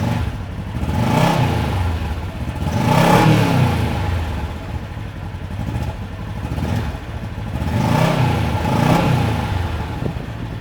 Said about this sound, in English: this is a stock KRX exhaust